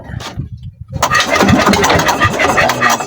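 A boat engine on a night fishing trip cranks, then catches and starts up loudly after a short pause, settling into a close, rough running rumble.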